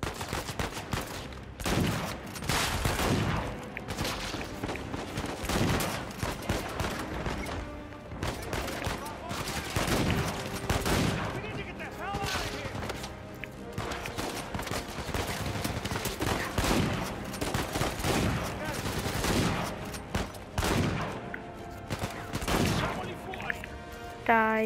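Shotgun blasts and other gunfire from a combat scene in the video game Uncharted 4, with frequent sharp booming shots over a busy soundtrack and game voices throughout.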